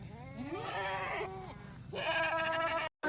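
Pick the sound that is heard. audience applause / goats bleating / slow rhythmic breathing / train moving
goats bleating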